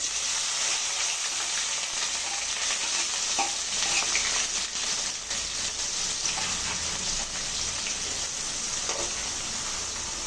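Onions fry in a pan with a dense, steady sizzle like light rain, with occasional faint stirring clicks; close and continuous, with no talk.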